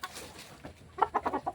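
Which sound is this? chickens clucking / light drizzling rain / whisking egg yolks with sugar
chickens clucking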